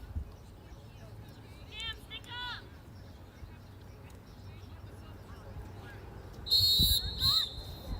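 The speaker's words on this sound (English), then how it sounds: "And we'll have a whistle here." A referee's whistle at a girls' high school lacrosse game, two sharp shrill blasts near the end, with an announcer talking over faint crowd and field noise.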